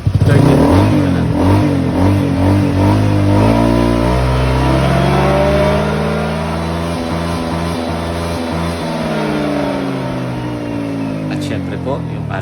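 Honda Click 125 scooter, remapped and running lean, revs from idle up to high RPM, engine pitch climbing and holding strong and close, then easing slightly while staying loud throughout.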